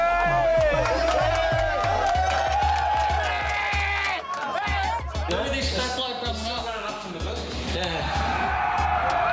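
A beach crowd at Bondi cheers and shouts at a fight, a loud, continuous roar of many voices with whoops and babble close by.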